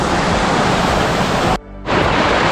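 A small hidden waterfall in Dehradun roars as a steady, loud, broadband rush of falling water close by. The sound drops out briefly for a moment before the continuous wash resumes, and no one talks.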